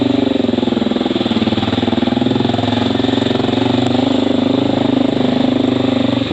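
Honda XR650L motorcycle engine running at a steady idle close by, a loud, continuous low thumping rumble with an even single-cylinder pulse throughout.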